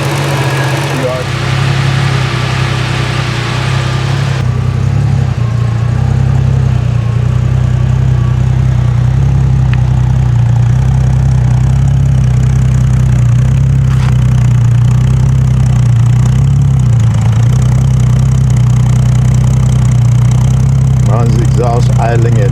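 A freshly tuned Triumph TR6 idles at about 950 RPM with properly adjusted valves, giving a steady, loud low rumble through its exhaust that runs unbroken throughout, with faint ticking on top.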